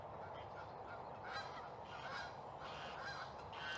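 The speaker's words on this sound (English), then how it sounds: "Sorry about the geese." Geese honk repeatedly outdoors on a golf practice area, a steady series of calls over a constant low wind-like background, moderately distant and fairly faint, with no talking.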